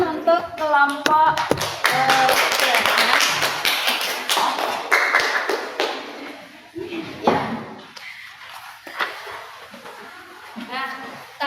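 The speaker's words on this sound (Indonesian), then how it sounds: "Tepuk tangan untuk kelompok" A classroom breaks into applause for a group presentation, loud close clapping at first that thins into scattered claps and taps, with voices talking over it.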